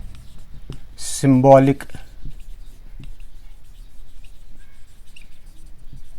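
Faint scratchy strokes of writing on a board during a math lecture on linear differential equations, a few soft taps and scrapes scattered through the clip with someone briefly speaking near the start.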